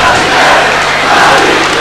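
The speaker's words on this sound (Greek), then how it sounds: "Ο κόσμος που χειροκροτεί τον ναυτικό Μιλοχείου" Crowd noise swells steadily from the stands at a 1997 Chios versus Olympiacos water polo match, a dense, loud wash of applause and cheering with no break.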